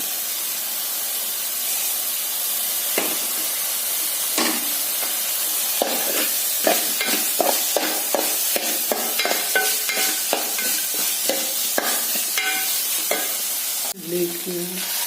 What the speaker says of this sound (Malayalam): കോളിഫ്ലവർ വറുത്ത് ഇതിലേക്ക് ഇടുന്നു